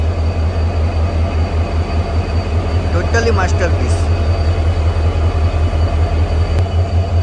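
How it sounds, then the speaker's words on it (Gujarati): A Sabarmati-based WDP 4D diesel locomotive, number 40179, runs with a deep, steady engine rumble and constant rail noise close by, while someone speaks briefly over it. "આ જે એન્જિન છે, જે ડીઝલ એન્જિન છે"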